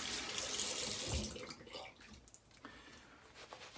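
Tap water runs into a sink to wet shaving soap lather in a brush, a steady splashing rush that eases into softer trickles and drips, close and fairly loud.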